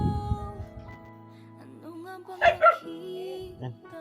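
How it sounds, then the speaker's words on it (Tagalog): A dog barks twice in quick succession at close range, with a few whimpers and yips around it in a quiet outdoor setting. Soft talk is heard at the start. "Yan, aso."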